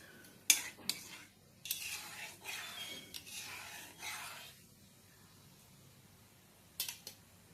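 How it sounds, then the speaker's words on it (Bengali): Black cumin seeds frying in a pan while being stirred, heard as a series of close metallic spoon clinks and scrapes over faint sizzling, with a quiet stretch before two final taps. "কালো জিরেটা ভাজা ভাজা হয়ে গেছে।"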